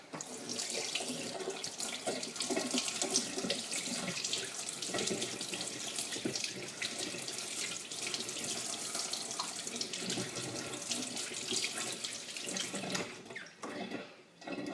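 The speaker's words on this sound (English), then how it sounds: "And should be able to rinse this in water as well." Paint brush rinsed under a running tap, cleaning paint off a model: a continuous hissing splash of water that fluctuates as the brush moves through the stream, then briefly dips before resuming, with no talking.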